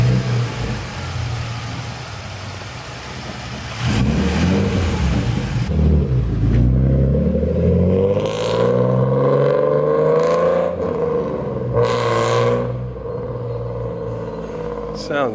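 A car's engine is revved on a dyno in a workshop, rising and falling in loud, close bursts of throttle with sweeping pitch climbs. A voice is faintly present at moments.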